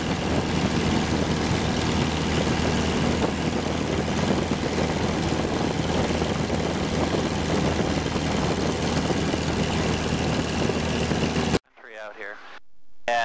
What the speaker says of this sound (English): with the UL Power 350IS engine, we got lots of power. Very smooth running engine